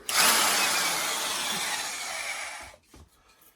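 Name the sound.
drill with hole saw cutting a hole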